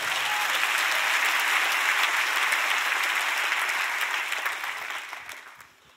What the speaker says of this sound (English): Clap your hands for the word of God.